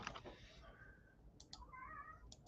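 A cat meows, with a drawn-out call first and then shorter, quieter mews. Faint clicks sound in a quiet room.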